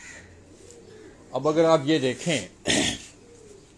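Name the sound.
pigeons cooing in a rooftop cage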